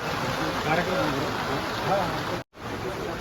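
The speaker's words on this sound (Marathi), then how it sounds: "आता आम्ही निघालो घरी पण पाऊस आलाय थोडं साईडला थांबावं लागेल" Rain pours steadily in a continuous close hiss of drops hitting surfaces, broken by a momentary dropout near the end.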